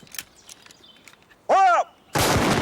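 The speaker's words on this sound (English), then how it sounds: "One round of volley fire." A single rifle volley at a military parade, a sharp, loud broadband crack ringing out alone after a brief shouted command, with a harmonic whistle-like tone just before it.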